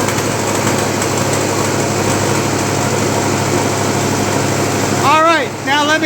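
A 1958 Oliver 550 diesel tractor engine runs steadily and loud up close, a constant throbbing drone with no pauses, and near the end a few rising whistle-like chirps cut in above it.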